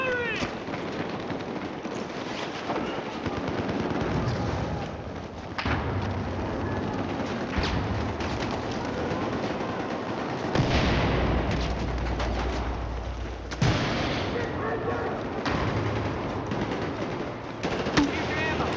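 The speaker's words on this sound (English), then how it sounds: "I'm firing!" Gunfire in the video game Battlefield 4, with bursts and single shots cracking over game effects and ambient noise, and a voice talking at intervals.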